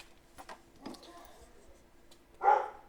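A single dog bark rings out near the end, fairly close, after quiet shuffling and faint indistinct voices.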